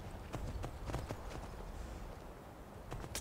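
Horse hooves clip-clop at a steady walking rhythm in the video game Skyrim, close and fairly loud, over a constant low background rumble.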